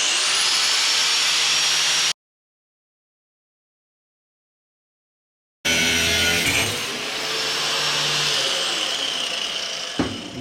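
An abrasive cutoff wheel cuts metal pieces clamped for trailer fender braces, a loud, steady high-pitched grinding whine that runs for two stretches separated by a silent gap, with the pitch dropping as the wheel winds down at the end.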